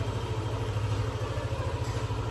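A Yamaha NMAX 155, the latest model, idles nearby with a steady, even engine rumble and a slight rhythmic pulse, and no one talking.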